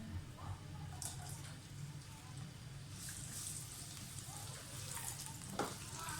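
Chopped onion fries in a modest amount of oil for a potato and capsicum curry, giving a steady, low sizzle with occasional stirring scrapes throughout.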